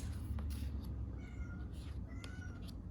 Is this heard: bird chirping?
no